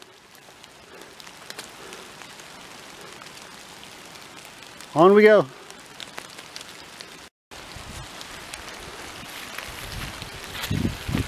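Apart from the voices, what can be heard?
rain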